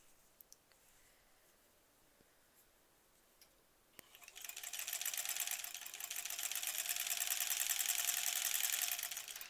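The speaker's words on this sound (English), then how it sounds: "Oh, let's kind of sew off the side here." A sewing machine stitching a quarter-inch seam on a quilt block: a few faint clicks, then a steady rapid whirring run of stitches for about five seconds, close and loud with no talk.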